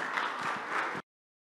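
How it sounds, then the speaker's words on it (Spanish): A conference audience claps for a speaker in a dense, even burst of applause that cuts off abruptly after about a second. "Un aplauso para él."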